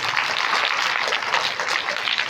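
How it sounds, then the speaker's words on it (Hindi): Brief burst of steady, fairly loud clapping from a crowd at a school prize distribution, continuous with no pauses. "तो अन्नू मैडम के लिए और हेमराज जी के लिए भी ताली बजाइए।"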